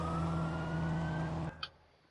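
A police patrol car siren in the video game Watch Dogs wails loudly for about a second and a half, then cuts off, followed by a short faint click in near silence.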